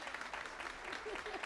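An audience at the Women's Circle show at Tønder Festival 2019 claps briefly, a short burst of applause with a voice audible over it.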